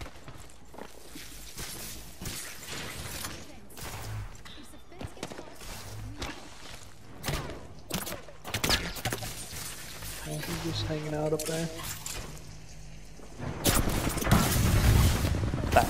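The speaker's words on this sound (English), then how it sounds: "Sounds like they're shooting." Gunfire in Apex Legends crackles in scattered bursts, some distant and some nearer, growing heavier toward the end while a player talks over it.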